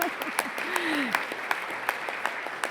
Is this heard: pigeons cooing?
no